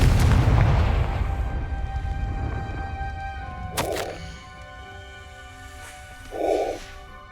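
Confringo fire spell in the game Hogwarts Legacy: a sharp blasting crack, then a second shorter burst a few seconds later, over a low rumble and a soft tonal game backdrop.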